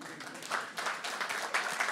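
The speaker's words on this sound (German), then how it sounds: "dass ihr klatscht" A comedy club audience clapping, a steady patter of many hands at moderate distance, fairly faint and continuous without a voice over it.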